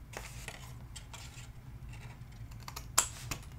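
Paper is cut with scissors along fold lines to shape an envelope, giving quiet, irregular snipping and rustling clicks at close range, with one sharper snip near the end and no voices.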